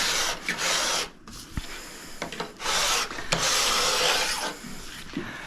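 A hand file is drawn along a ski's steel edge, making repeated rough, raspy scraping strokes of about a second each, close and fairly loud, with brief pauses and small clicks between them.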